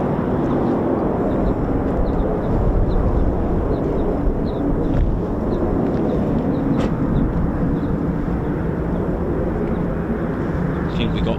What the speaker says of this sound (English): See a bit of afterburner there.